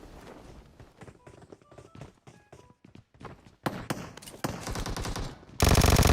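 Rapid gunfire in a shooting video game, quieter scattered shots at first, then louder sustained bursts building to a harsh loud finish.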